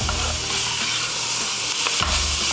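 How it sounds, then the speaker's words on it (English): Vegetables for a seafood gumbo fry in hot oil with a steady, loud sizzle while a spoon stirs them. A brief scraping break comes near the end, and no one speaks. "And you're going to let the oil cook the vegetable"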